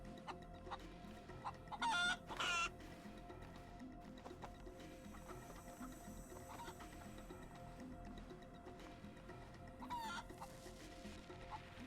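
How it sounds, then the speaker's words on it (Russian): A rooster in the DayZ video game clucks and squawks in a few loud bursts over a quiet outdoor ambience. "Петуха отгоняю."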